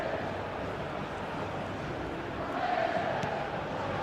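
A football stadium crowd in a video game murmurs and roars as a broad, steady wash of distant voices, with a slight swell near the middle.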